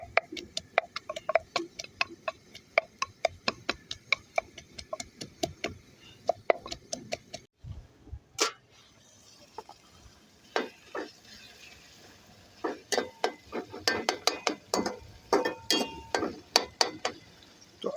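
Garlic and ginger pounded in a mortar, a series of sharp hard knocks in quick irregular bursts, fairly close and alone, pausing briefly midway before resuming.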